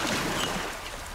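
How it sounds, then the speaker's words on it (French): Gentle murmur of waves lapping a cartoon island shore, a soft, steady watery wash heard alone and close, fading slightly toward the end. "Pas un seul bruit à part le doux murmure des vagues."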